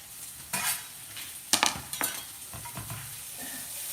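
Chopped mushrooms sautéing in a pan, a soft steady sizzle with several sharp bursts of frying as pieces hit the hot surface and get stirred, no talking.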